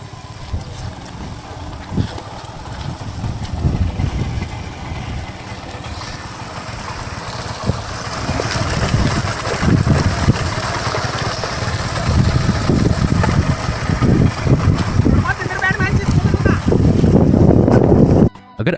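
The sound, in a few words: motorbike engine powering an improvised peanut-separating machine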